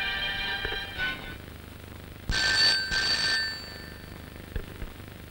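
An old landline telephone bell rings in short, loud bursts, with fainter rings before and after and a few soft clicks in a quiet room.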